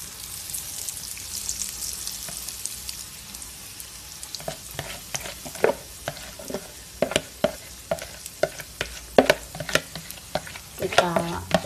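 Beaten egg mixture for a Padang-style omelette hits hot oil in a pan over low heat, a steady broad sizzle punctuated by a run of sharp clinks and scraping strokes from a utensil against the pan.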